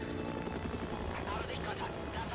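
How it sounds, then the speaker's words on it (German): A rescue helicopter arrives in the horror game Until Dawn, its rotor a loud continuous chopping roar filling the whole stretch with a dense rumbling wash. "Da kommt der rettende Helikopter."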